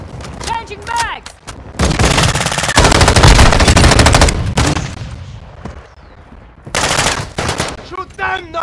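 Rapid automatic gunfire in the Modern Warfare video game comes in loud, sustained bursts with sharp gaps between them, while voices shout in the background.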